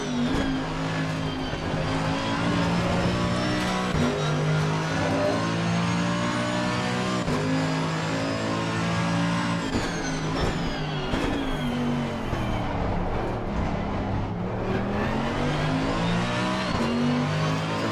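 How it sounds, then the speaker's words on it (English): BMW race cars in Assetto Corsa Competizione roar as they accelerate at Donington Park, layered engine notes climbing and shifting continuously with loud, steady intensity throughout. "the BMWs accelerate so well"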